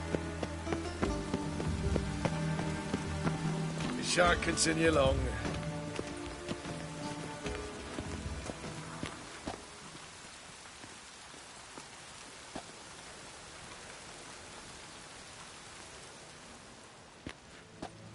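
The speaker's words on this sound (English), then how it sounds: "It's raining, of course it's going to be damp." Rain falls in the video game The Witcher 3, a steady patter on surfaces with scattered drop ticks. Someone talks over it early on, and the rain continues alone afterwards.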